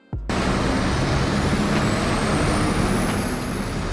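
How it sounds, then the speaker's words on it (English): A police water cannon truck gives off a loud, steady, heavy diesel rumble after a brief quiet start, with a faint high whine drifting above it. "Police water cannon truck."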